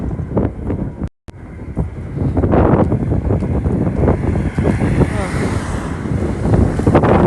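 Strong wind buffets the microphone outdoors beside a road during a walking pilgrimage procession, making a loud, continuous low rumble that cuts out briefly near the one-second mark and then surges back.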